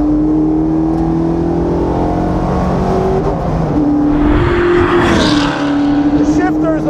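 2002 Mustang Cobra Grand Am race car on a track, its engine roaring loud and close throughout, pitch climbing and dropping through shifts, with a voice talking over it.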